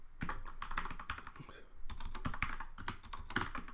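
Fast, clattering keystrokes on a computer keyboard while entering commands into the Python interpreter, close and fairly loud in quick irregular bursts with a brief pause partway through.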